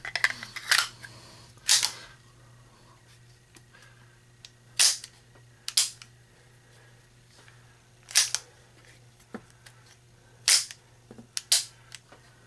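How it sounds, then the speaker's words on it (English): Metallic clicks and snaps as a magazine goes into a Ruger Mark III 22/45 pistol during reassembly, several sharp, close clicks spaced irregularly over a quiet hum. "Insert the magazine."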